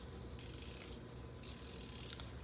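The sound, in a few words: Capri Tools 100 tooth ratcheting wrench clicking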